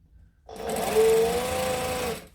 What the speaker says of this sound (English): So I'm going to do a couple of stitches and then back stitch